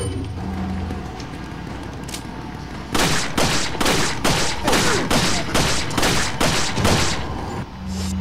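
Shotgun fire in Resident Evil 4 Ultimate HD Edition: about a dozen loud, evenly spaced blasts in quick succession, each sharp and booming, after a quieter stretch of background game ambience.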